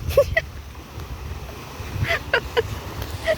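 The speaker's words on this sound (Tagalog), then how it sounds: "Katamtaman na yung alon" Moderate sea waves wash onto the beach at a resort in Tangnan, Panglao, Bohol, a soft broad surf hiss mixed with wind buffeting the microphone and a few short high chirps over it.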